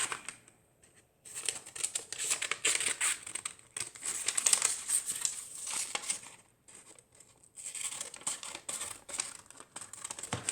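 Scissors snip through paper while cutting out an origami crate, giving close crisp rustling and crinkling cuts in repeated bursts separated by brief pauses.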